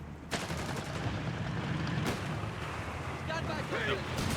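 Artillery and mortar fire rumble in the Company of Heroes 3 strategy game, with a dense battle backdrop, sharp distant blasts and crackling bursts, plus faint in-game voice chatter.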